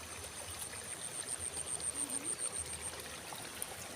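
Clear water in a village stream flows and trickles steadily nearby, a soft continuous rushing wash with small gurgling pulses.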